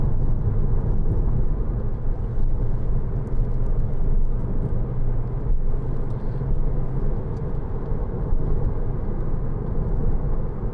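A Porsche Cayman 2.9 (987) two-door driven on a bumpy country road through bends, giving a steady loud low engine and road rumble throughout with no clear rev changes.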